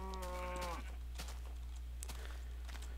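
A Minecraft sheep bleats once, a short wavering in-game cry near the start, followed by faint game clicks and footsteps over a steady low hum.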